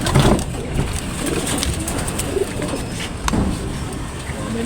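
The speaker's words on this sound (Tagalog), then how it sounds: "May nasamang ibang ibon." Racing pigeons coo in low, repeated throaty calls at a breeder's loft, a steady murmur of several birds close by with a few louder bursts and no talk.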